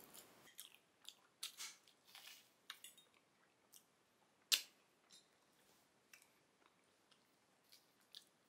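Crunchy bites and chewing of a crispy croffle, close and quiet, in a string of separate crackly crunches with short pauses between them and no talking.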